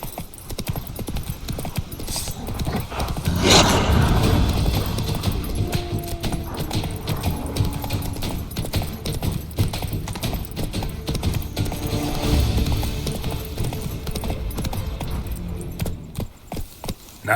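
Roach, the horse in The Witcher 3: Wild Hunt, gallops with a steady rapid clip-clop of hooves. Rattling tack and faint ambient game sound run under the hooves throughout.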